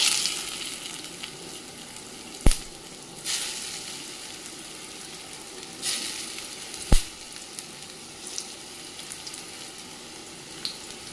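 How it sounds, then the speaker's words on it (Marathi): Aluvadi, stuffed colocasia-leaf rolls, shallow-fry in a little oil over low heat, giving a steady soft sizzle with a few sharp clicks and spatula scrapes at intervals, close by and with no voices. "मी थोडंच तेल घेतलेलं आहे, मंद गॅसवर आपण हे चांगले भाजून घेऊया"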